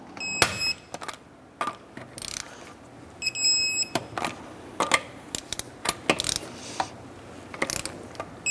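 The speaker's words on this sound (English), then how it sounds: "And torque down our wheels to 100 foot-pounds." Torque wrench tightening the wheel lug nuts on a 2006-2013 Chevrolet Impala to 100 foot-pounds: sharp, close metallic ratchet clicks come in irregular bursts, with brief pauses between pulls.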